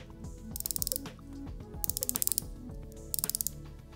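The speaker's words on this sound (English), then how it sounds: "That is the sound of a 120-click titanium bezel on a robustly ratcheting mechanism." Three bursts of rapid, crisp clicking come from a 120-click titanium bezel turning on a Zelos dive watch. The bezel ratchets close to the ear over a quiet background.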